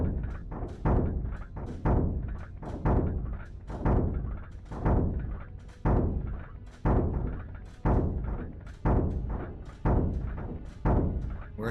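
Spaceship turrets firing in Helium Rain, one of them damaged and slower, producing a steady rhythm of about a dozen heavy, booming thuds spaced roughly a second apart, each decaying before the next.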